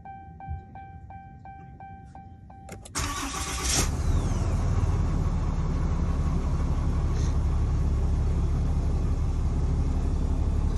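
A 2022 Ram 2500 work truck starts up after a few faint electronic chimes, its engine catching with a sharp burst and then settling into a loud, steady low rumble that continues close by to the end.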